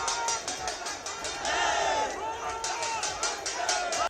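A large crowd of protesting candidates gathers at a candle march near a commission building in Prayagraj, Uttar Pradesh, with a dense, continuous roar of many voices, shouts and scattered cries at moderate distance.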